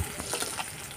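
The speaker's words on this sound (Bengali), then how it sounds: "মাছগুলো লাল লাল করে ভাজা হয়ে গেছে" Pieces of rohu fish frying in hot oil, a brief, close, steady sizzle.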